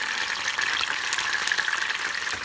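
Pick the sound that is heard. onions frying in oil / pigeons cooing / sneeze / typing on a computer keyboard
onions frying in oil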